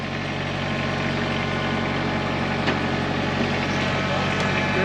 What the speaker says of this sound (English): Give it some gas. Give it some throttle. No, you're just spinning the other wheel.